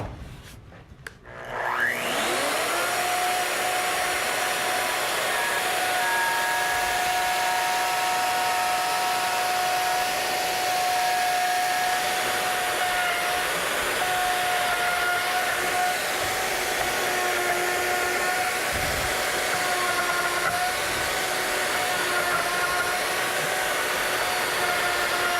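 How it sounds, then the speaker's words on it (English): A router spins up with a rising whine, then holds a loud, steady high-pitched roar as it follows a scrap wood template on a reclaimed-wood bench. "now we'll screw it and center it over where we want it and follow it with a router."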